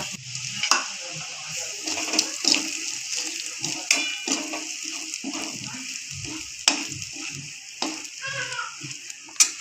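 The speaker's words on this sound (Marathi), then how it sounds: "कढईमध्ये तेल टाकून घेतलेले आहे" Oil in a kadhai for bitter gourd bhaji, giving a moderate frying sizzle broken up by repeated scraping stirs and clinks, with faint voices in the background.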